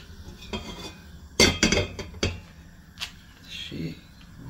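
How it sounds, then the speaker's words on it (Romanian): A metal pot is set onto a kitchen stove while cooking cabbage soup, giving a few sharp clanks and clinks close by, with a voice talking in the background. "Voi adăuga o oală pe foc"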